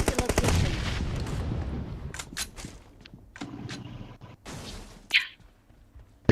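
Gunfire in the mobile battle-royale game PUBG Mobile: a dense rattling burst opens, then scattered single and double shots crack at intervals, with a sharper report near the end, all fairly loud with no talk.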